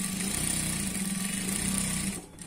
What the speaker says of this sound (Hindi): अब इसके अंदर हम 6 सिलाई लगाएंगे और वो भी स्ट्रेट वाली सिलाई लगाएंगे।